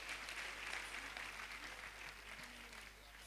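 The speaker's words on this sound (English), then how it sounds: "Please recognize the teachers that are here with a round of applause" Applause from the audience for teachers at a pharmacy graduation and induction ceremony, a steady wash of many hands clapping heard from a distance, faint and continuous for a few seconds.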